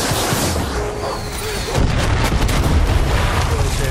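Grenade blast in the video game Far Cry 6, a heavy boom partway through followed by sustained rumbling gunfire-like noise, loud and near, with no speech over it.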